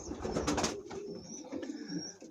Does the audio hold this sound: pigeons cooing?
yes